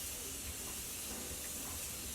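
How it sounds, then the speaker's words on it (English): A Morphe Continuing Setting Mist spritzed onto a face gives a steady, soft hiss of fine spray that holds evenly for a couple of seconds, close and fairly quiet with no talking. "We're going to use our Morphe Continuing Setting Mist Spray."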